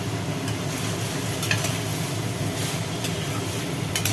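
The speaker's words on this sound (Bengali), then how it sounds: "সোয়াবিনের মধ্যে পড়ে গেল ভাজা আলুগুলো" Fried potato pieces and soybean chunks sauté in a pan for yogurt soybean curry, giving a steady, dense sizzle with faint stirring scrapes and clinks throughout.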